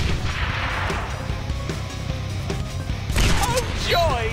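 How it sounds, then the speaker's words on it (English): Gunfire from the Deadpool video game rattles through a dense, busy game mix of crashes and bursts, with a voice briefly audible near the end. "Oh, joy! Bullets!"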